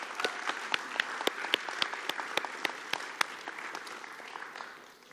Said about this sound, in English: So applause for Ivana.